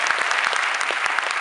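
An audience applauds for a radio station presenter at a live event, dense clapping with sharp individual claps standing out, loud and sustained.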